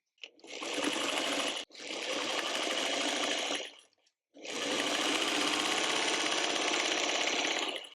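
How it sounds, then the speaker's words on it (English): A sewing machine stitches rows of a tulip quilt block together in three bursts of rapid, even whirring, stopping briefly between runs, close and clear with no talking. "We're going to sew the bottom row to this"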